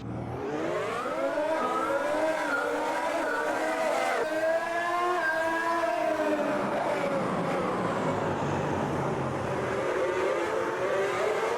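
A Formula 1 2022 car engine in Automobilista 2, the Formula Ultimate Gen 2, screams at high revs with rising and falling pitch through gear changes, loud and continuous throughout.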